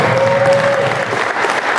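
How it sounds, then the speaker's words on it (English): Audience round of applause at a horror film anniversary reunion panel, steady dense clapping filling the whole short stretch with no voices. "So a round of applause for that."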